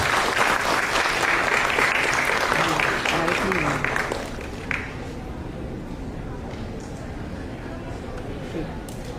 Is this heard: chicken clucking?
no